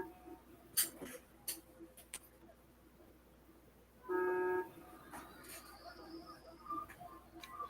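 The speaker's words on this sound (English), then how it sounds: "Do you not hear this honking?" A car horn honks once in an action-movie scene from The Expendables. It is a short, tonal blast partway through, set among faint ticks, background noise and quiet talk.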